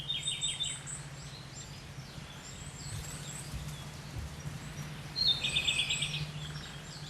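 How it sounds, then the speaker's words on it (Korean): Several small mountain birds chirp and trill from a distance over a low steady hum, calls trading back and forth in short bursts. "자신들의 존재를 소리로써 알려주는 산새들"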